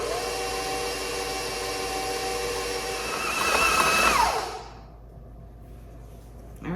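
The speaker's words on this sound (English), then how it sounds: "We're gonna start this mixer on low" Electric stand mixer whirring steadily on low speed as it blends flour and salt into cookie dough, a loud, even motor drone with a pitch shift near the end before it winds down and stops.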